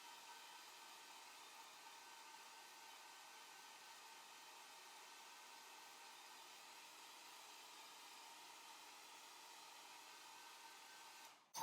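A hair dryer blows steadily on a decoupage transfer craft, its even airy whir holding for several seconds before a brief clunk as it switches off at the end.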